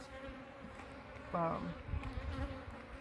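Honeybees buzzing in a beehive filling with honey, a faint low drone with one brief louder buzz passing close, over quiet background noise.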